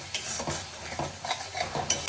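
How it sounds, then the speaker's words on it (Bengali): Bengali-style ghugni spice masala stirred and fried in a pan, a spatula scraping in repeated strokes over a soft steady sizzle, close and moderately loud with no talking. "মশলাটা ঢাকা দিয়ে দিয়ে খুব ভালো মতো আমি কষিয়ে নেব"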